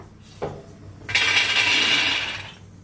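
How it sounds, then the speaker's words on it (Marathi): Grated coconut and sesame seeds roasting together in a pan: a light clink of a utensil, then a sustained dry sizzling hiss as they are stirred, fading at the end. "खोबरं तीळ आहे ते दोन्ही संगच भाजून घेते"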